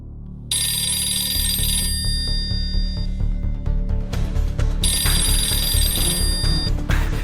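A telephone bell rings loudly in a movie scene, two long bursts of bright, steady ringing separated by a pause, over a low rumbling music bed.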